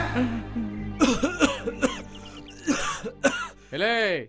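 Several harsh coughs and throat-clearing bursts from a nearby person, spaced irregularly, ending in a longer strained rasping hack.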